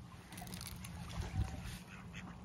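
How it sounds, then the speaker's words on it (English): Ducks at a pond being fed give a few faint quacks over soft outdoor background noise, with no clear talking. "We found some ducks, everybody. And there's loads."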